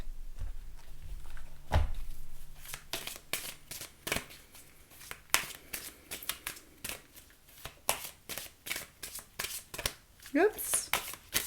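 Oracle cards are shuffled and drawn by hand in a quick series of crisp, close riffles and soft slaps that go on for several seconds, with a voice speaking at times.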